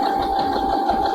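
A sewing machine steadily stitches a seam on a fabric bookmark, its motor whirring continuously and evenly at close range for about a second, with no voices.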